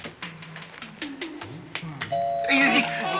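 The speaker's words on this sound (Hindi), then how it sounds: "बजाने दो, घंटी बजाने दो।" A doorbell chimes near the end, a bright ringing tone after stretches of talking voices, the ring loud and sustained over the last second.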